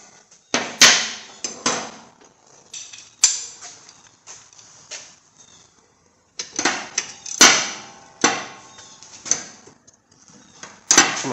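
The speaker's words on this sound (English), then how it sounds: "See if I can get in here with my wrench. She's tight. Let's get a ratchet." A ratchet wrench loosens a tight brake bolt on a 2017 Chevy Traverse in a repair job, giving clustered bursts of sharp metallic clicks and clatter, close and loud, with quiet gaps between strokes.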